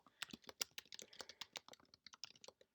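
Rapid, irregular keystrokes on a computer keyboard as a password is typed, close and crisp with no voices.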